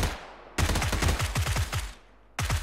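Rapid rifle shots in PUBG on a snow map: a fast string of sharp, loud cracks, about a dozen in a tight burst, then a short pause before a few more shots resume.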